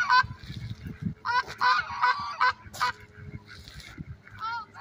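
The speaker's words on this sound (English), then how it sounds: "There are the geese." Geese at the pond in Mill Pond Park, San Saba, Texas, honk in loud, repeated bursts close by, several calls overlapping, with quieter gaps between them.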